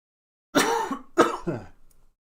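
Two close, sharp coughs followed by a short throat clearing, heard alone in a quiet room.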